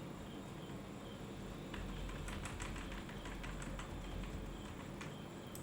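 Keys on a computer keyboard are tapped in a quick, soft burst of clicks on a Windows 11 machine, faint against a steady background hiss, with no talking.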